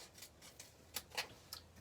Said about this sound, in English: We'll just take our scissors and snip these.